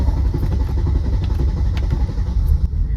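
A Mercedes C32 AMG running E85 fuel accelerates hard in a full-throttle pull, its engine a loud, steady rumble with some mechanical clatter and no voices over it.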